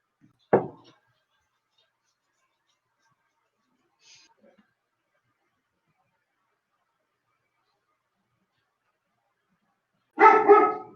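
A dog barks twice, one short sharp bark early on and a longer burst of barking near the end, with near silence in between.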